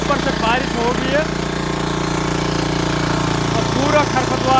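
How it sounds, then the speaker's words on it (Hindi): Diesel engine of a power weeder running on wet, smooth farmland, a steady close thumping idle throughout, with people talking over it. "हमने डीजल का इंजन चला दिया"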